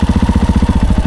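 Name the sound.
four-stroke motorcycle engine idling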